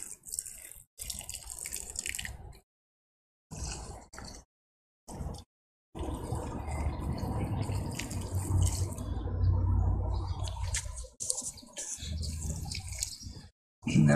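Water poured from a watering can or hose onto potted plants, including black ginger, during garden planting; a broad running splash that starts, stops and resumes in several bursts, with a voice talking in between.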